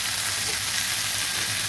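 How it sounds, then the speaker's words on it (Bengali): Small kechki fish dropped into a pan of nearly boiled potatoes, giving a loud, even, unbroken sizzle close up, with no voices. "এবার আমি উপর থেকে মাছগুলো দিয়ে দিচ্ছি।"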